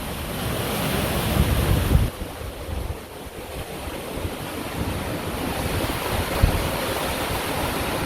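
Strong wind and breaking waves while under full sail in about 20-knot winds and rain on a sailboat bound for Key West, a continuous loud roar of gusting air and surging water with buffeting microphone noise.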